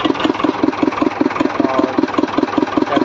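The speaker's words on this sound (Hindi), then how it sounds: "ट्रैक्टर भैया चलाते हुए आए हैं" A tractor engine idling and running nearby on a farm in the morning, with a steady, fast rhythmic chugging throb that stays loud and continuous throughout.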